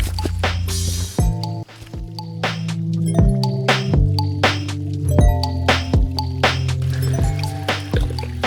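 Footsteps splash rhythmically through shallow river water in a canyon, each step a wet squelch about once a second, close and clear.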